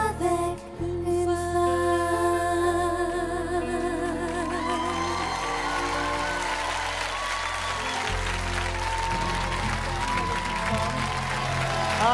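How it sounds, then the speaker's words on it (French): Sustained applause from a television studio audience at a live prime-time talent show, steady and loud throughout, with music layered over the clapping. "Vous avez raison de les applaudir."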